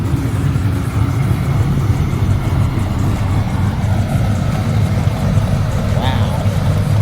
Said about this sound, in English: Car sounds great.